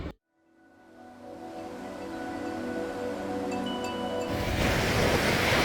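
Ocean waves at a beach in Malaysia, rising from near silence into a growing steady hiss of surf that swells louder toward the end, with a faint tonal hum beneath and no voices.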